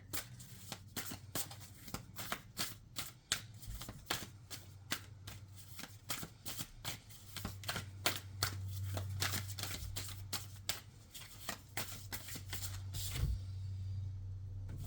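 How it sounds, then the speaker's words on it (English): Rapid, crisp riffling and snapping of tarot cards being shuffled, repeated in quick bursts close to the microphone over a low steady hum. "I was shuffling my cards the wrong way"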